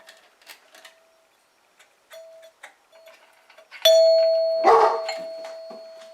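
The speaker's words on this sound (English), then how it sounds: "Oh, that's just my dog." A doorbell chimes at home with a sustained ringing tone, and a dog answers with a loud, sharp bark that rings out over the fading chime; soft ticks and taps come before it.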